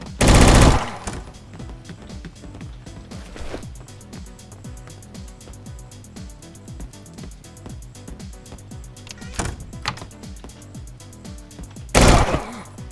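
Police firing automatic weapons during a raid in the Thai game Police Stories, with rapid continuous bursts and several sharper loud spikes, under scattered faint sounds and no talking.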